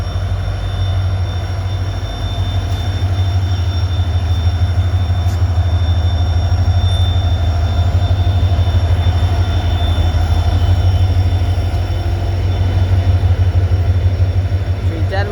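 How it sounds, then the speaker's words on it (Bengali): The Dullavcherra Express passenger train runs on the Silchar line, giving a loud, steady rumble with a rhythmic clatter of wheels on rails heard from inside the carriage throughout. "দুলছড়া এক্সপ্রেস ট্রেন"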